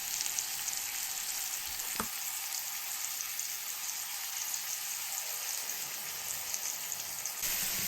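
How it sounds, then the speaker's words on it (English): Marinated lion's mane mushroom fries in a lightly oiled, salted and peppered pan, giving a steady, close, bright sizzle throughout, with one brief sharp pop partway through. "So heat up the pan, a little bit of the oil, season it with a little bit of salt and pepper."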